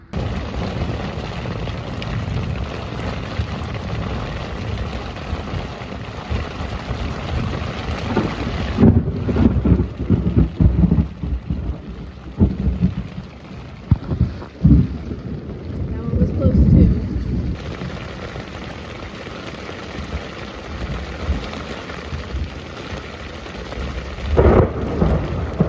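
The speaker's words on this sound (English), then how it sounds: "So the main storm has passed, the lightning's gone, but there's still a little bit of rain" A thunderstorm with steady rain and wind, heard outdoors on a road trip, thunder rolling through in deep rumbles over the continuous rain hiss, with wind buffeting the microphone, no voices.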